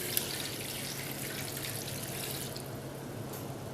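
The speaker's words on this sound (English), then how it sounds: "We'll go ahead and pour in our seasoning and water." Water and liquid seasoning being poured into a skillet for Velveeta creamy beef stroganoff, a steady, moderately loud splashing pour with a constant low hum running under it throughout.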